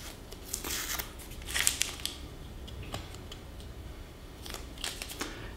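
Painter's tape carrying a paper pattern is peeled off a scroll saw workpiece, making close, intermittent crackling rips and crinkly tearing bursts separated by quieter pauses, with no talk.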